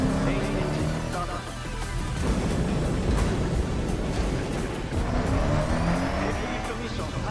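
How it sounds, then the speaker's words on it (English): A rocket's main engine ignites at launch in a video game, a loud, sustained roaring rumble that swells and holds throughout, with a voice speaking over it. "Main engine start."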